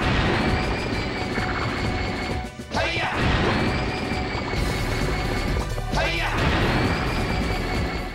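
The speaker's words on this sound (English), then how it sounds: "he'll end up taking out four glass panels with one punch" Glass panels shattering under a boss's punch in Ape Escape 2, a dense, loud barrage of crashing and grinding that dips briefly twice before surging back.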